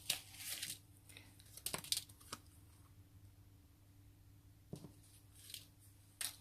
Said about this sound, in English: Just popping out the rest of the die cut.